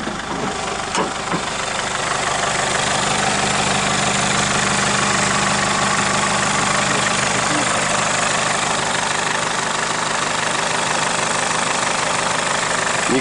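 A Mercedes Sprinter van's engine idles with the bonnet open, a steady close mechanical hum and light knocking running throughout, while someone talks over it now and then.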